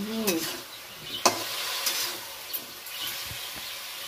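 Potatoes and bottle gourd stems frying with spices in a Bengali home kitchen: a faint low sizzle under scattered stirring scrapes and a sharp utensil knock, fairly quiet, with no talking.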